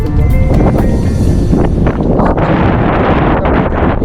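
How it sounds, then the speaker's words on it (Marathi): Strong wind buffets the microphone during a boat ride on open water, a loud continuous roar with rustling gusts and faint water sounds throughout. "वारा मस्त."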